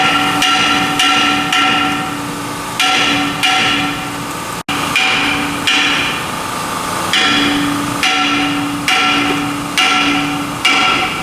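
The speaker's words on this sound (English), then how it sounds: "give it a few tappy tap taps with the hammer" Steady metallic hammer blows ring out on a semi-trailer brake drum, loud and close, repeating in regular clusters with a lingering clang after each strike.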